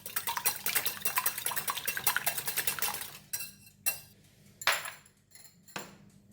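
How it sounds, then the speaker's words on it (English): Eggs are beaten in a bowl with a utensil, giving rapid, rhythmic clinking and scraping for about three seconds, then a few separate clinks and taps. No one speaks. "So I'm going to just beat the egg first."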